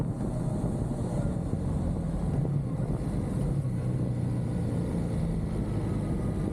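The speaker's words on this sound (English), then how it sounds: "it's just the wind is so bad" Heavy, steady wind buffeting roars across the microphone of a rider on a motorcycle at freeway speed, a dense, unbroken low rush with engine and road noise blended underneath and no talk.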